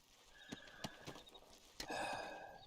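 A Belgian draft horse in Red Dead Redemption gives a whinny after a few hoof clops, the neigh rising clearly near the end, fairly close and alone with no talk.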